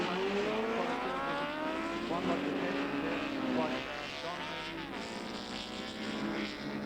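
Racing sidecar outfits roar around the track at the 1987 New Zealand Sidecar Grand Prix, engines droning and shifting pitch as they pass at a distance, with a steady continuous wash of motor noise.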